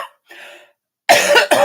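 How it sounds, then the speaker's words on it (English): Two harsh, close coughs from a person recovering from an illness, the first short and the second longer and louder with a brief trailing burst, separated by quiet. "I am feeling a little better, but still coughing."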